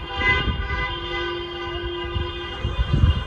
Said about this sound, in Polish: A jeszcze klaksonowanie przez miasto.